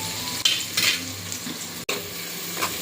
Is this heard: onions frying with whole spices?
yes